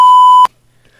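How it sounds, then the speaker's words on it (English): A loud, steady pure censorship bleep tone sounds for about half a second and then cuts off abruptly, leaving near silence with faint room noise. "Wow, that was a beep. I bleeped it."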